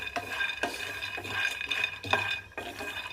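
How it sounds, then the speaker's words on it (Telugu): Peanuts frying in a pan while being stirred, with repeated scraping strokes and a faint sizzle underneath. "గోల్డెన్ కలర్ వచ్చేదాకా వేయించుకోండి పల్లీలని"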